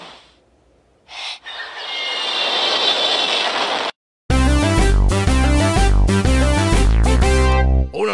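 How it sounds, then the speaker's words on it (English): An aeroplane flying past in an animated cartoon, a rising roaring engine whoosh that swells over a few seconds, then cuts to loud, rhythmic musical notes. "Here comes the aeroplane."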